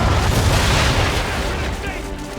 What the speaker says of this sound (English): aim all guns at her bow and do as much damage as possible. Ready! And fire!